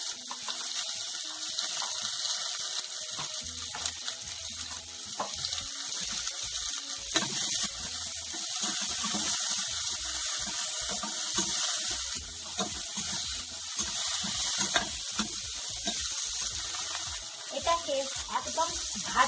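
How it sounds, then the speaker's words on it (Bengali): Potatoes fry in a pan with salt and turmeric. A steady, watery sizzle runs close throughout, with scattered spits and pops, and a voice talks faintly underneath. "একদম ভাজা ভাজা করে নেব"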